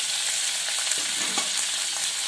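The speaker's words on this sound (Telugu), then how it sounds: "ఈ టమాటోస్ని ఫ్రై చేసుకుందాం బాగా" Chopped tomatoes frying with green chilies and garlic in a pan, a loud, dense, continuous hissing sizzle close up with faint stirring scrapes, no talking.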